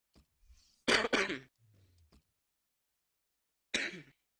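A person coughs and clears their throat in a couple of harsh bursts, close up, followed by a pause and one more short cough.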